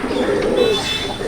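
Old-line Madrasi pigeons in a loft coo steadily in a low, continuous murmur, close and fairly loud, with a few faint higher chirps over it and no talk.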